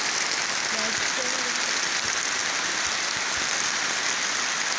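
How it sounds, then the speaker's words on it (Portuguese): Heavy rain pours in a steady, dense hiss, loud and unbroken throughout, with occasional faint knocks underneath. "Muita chuva."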